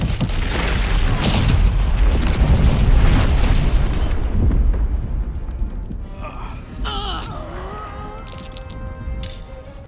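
A big explosion set off in Baldur's Gate 3 booms loudly and rumbles for several seconds before fading into quieter game sounds and effects.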